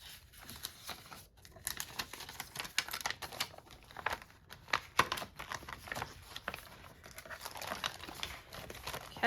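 Paper page kits handled and slid into an envelope, with steady close crinkling and rustling broken by brief taps and patters throughout, no speech.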